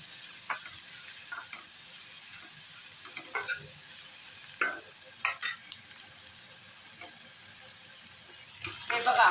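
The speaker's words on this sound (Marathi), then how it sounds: "गॅस मिडियम करायचा आता कांदा करण आपला वळीला पाहिजे" Onion sautés in a pan over medium gas for a bitter gourd dish, a soft continuous sizzle broken by sharp spatula scrapes and clinks, louder toward the end.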